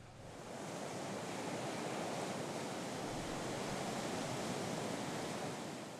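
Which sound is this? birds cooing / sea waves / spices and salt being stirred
sea waves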